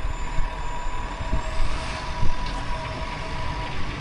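A snow plow truck fitted with a front plow and a side wing plow rumbles close by on a Canadian street, its engine producing a steady, loud low drone that continues for a few seconds.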